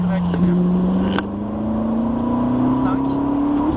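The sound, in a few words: Ferrari 458 Italia engine accelerating on circuit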